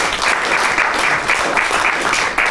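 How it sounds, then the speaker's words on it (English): Panel audience at an electrification event gives a steady burst of applause, dense continuous clapping filling the room from start to finish. "Give everyone a big clap."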